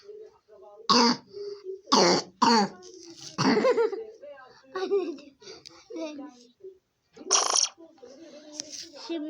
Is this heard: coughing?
yes